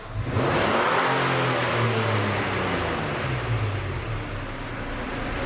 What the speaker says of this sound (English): we're just going to raise the RPM up to about 1500 RPM or so